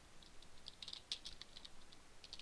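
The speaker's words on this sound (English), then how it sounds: "Stop typing." Rapid clicking of keys as someone types on a computer keyboard, quiet and close, with irregular bursts of keystrokes and no talking.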